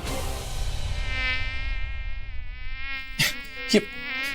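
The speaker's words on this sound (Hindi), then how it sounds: "ये मक्खी हमारे बीच आ गई" A housefly buzzing close by indoors, a steady whining drone that wavers in pitch, followed near the end by two short sharp knocks or claps.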